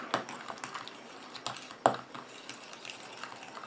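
A small spatula scrapes and taps in a bowl while mixing a pink clay face mask with carrot CO2 extract, giving a series of light, irregular clicks, close and fairly quiet, with no voices.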